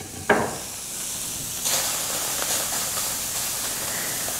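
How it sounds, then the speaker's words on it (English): A steady hiss of onions sizzling in a hot, dry pan with no oil, starting with a sharp crackle and holding at an even, close sizzle throughout. "You notice I didn't have any oil in the pan, and yet it makes that sizzling noise."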